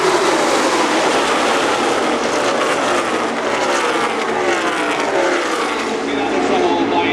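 NASCAR Xfinity Series race cars, among them a Toyota Supra, scream past on track in a dense pack. A loud, continuous engine roar sweeps with Doppler pitch changes, and a commentator's voice runs over it.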